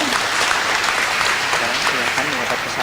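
Steady applause from a congregation greeting a newly blessed wedding couple at a church ceremony, dense and continuous clapping filling the room for the whole moment.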